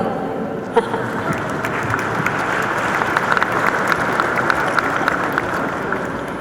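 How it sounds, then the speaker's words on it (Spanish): An audience at a formal government forum on national legislative harmonization breaks into dense, sustained applause, a full even roar of clapping from a large room, with a voice briefly audible over it. "Sí se vale aplaudir."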